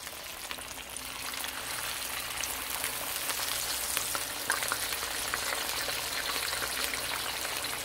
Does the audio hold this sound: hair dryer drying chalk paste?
no